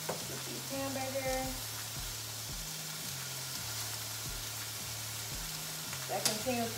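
Hamburger meat fries quietly in a pan, giving a soft, steady sizzle over a low, regularly pulsing hum from the stove area.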